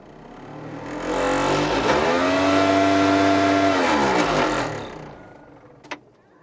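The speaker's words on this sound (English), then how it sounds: "we would just test that the blower works" Heater blower fan in a Mercedes 1017A truck cab spins up to a steady, loud whirring hum, holds for a few seconds, then winds down, with a sharp click just after it stops.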